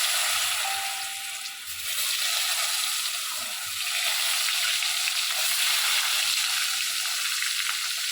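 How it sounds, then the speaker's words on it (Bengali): Pieces of cut taro (mankochu) frying in oil tempered with chilli and cumin, a steady loud sizzle throughout with slight dips as the pieces are stirred, no talking. "এই মানকচুগুলোকে আমি হালকা করে ভেজে নেব।"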